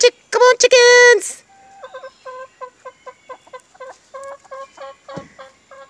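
A person calls out briefly to homestead chickens, then a run of chickens cluck close by in quick, repeated bursts, with a few overlapping calls.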